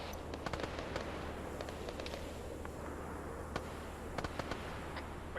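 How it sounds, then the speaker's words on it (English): Distant rocket and missile fire in the military shooter Arma 3 crackles in a steady rumble, with sharp bursts of reports clustered early and again near the end, heard alone without voices. "Macabre taking missile fire."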